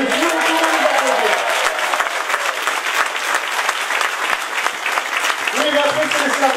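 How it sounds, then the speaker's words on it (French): An audience at a political campaign speech in Marseille for departmental elections breaks into loud, sustained applause with cheering, while a voice briefly sounds over the clapping near the start and end. "mesdames et messieurs, vous pouvez nous applaudir."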